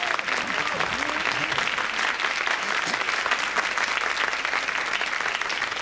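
A crowd at a televised event applauds, a full, sustained clapping that stays loud throughout, with faint voices mixed under the clapping.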